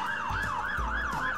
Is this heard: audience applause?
no